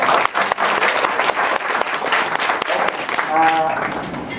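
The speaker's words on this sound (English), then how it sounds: "Give you a round of big applause for yourself." Loud applause from a table-seated audience at a team coaching event, dense clapping sustained across the whole stretch, with voices and cheers mixed in toward the end.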